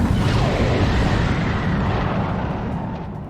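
A massive explosion engulfs a pirate crew and their ship in the One Piece Stampede anime film, a loud, sustained roaring blast with dense low rumble that fills the whole stretch and slowly tapers off toward the end.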